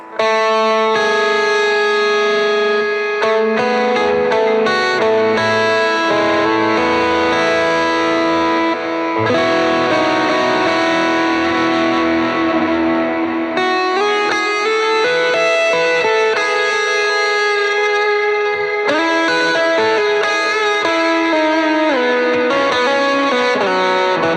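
Sustained electric guitar playing through an amp with effects, using a free ToneX tone model, chords and notes ringing out continuously, warm and moderately loud, no voices.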